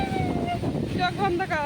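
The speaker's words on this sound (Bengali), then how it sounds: "কি হাওয়া ছেড়ে দিয়েছে" Strong wind buffets the microphone with a steady low rumble as a storm gathers, while people talk and call out over it.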